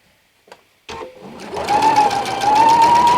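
A sewing machine stitches a quilt block with the needle-down function in use, starting after a couple of faint clicks and running loud and steady up close, its whirring pitch rising slightly as it goes.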